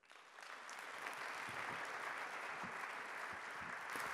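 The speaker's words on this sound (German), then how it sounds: "Herzlichen Applaus, Frank Asmus." Audience applause welcoming a speaker at an Austrian hotel-industry (ÖHV) event in Bregenz, a steady, dense clapping that swells in within the first second and continues evenly throughout without speech.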